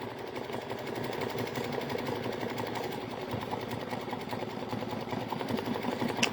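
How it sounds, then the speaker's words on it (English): A Baby Lock embroidery machine stitches in the hoop, backing up to sew twice over a section, producing a fast, steady mechanical chatter that runs evenly throughout. "I'm going to back my stitch up and make it stitch twice over it"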